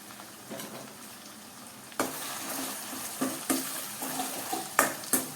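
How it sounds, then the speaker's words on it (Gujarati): Spring onion whites sautéing in hot oil as a tempering for a green pigeon pea dish, a steady soft sizzle that swells louder partway through, broken by occasional sharp stirring clinks of a spoon against the pan. "લીલી ડુંગળીના સફેદ ભાગને પણ આપણે તેલને વઘારમાં સંતળાવા દઈએ"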